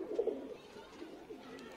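A pair of Madrasi pigeons coo softly nearby, a few low throaty coos in a quiet room with faint background noise.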